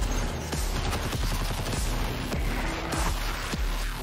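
Dense game combat noise: rapid gunfire and repeated booming blasts, loud and chaotic, with impacts scattered throughout.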